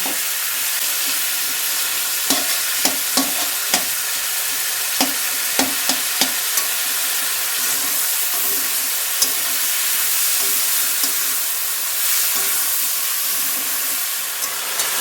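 Prawns fry in hot oil in a pan while they are stirred. A constant close hiss and sizzle carries sharp clicking taps from the spatula, and the taps are heavier early on.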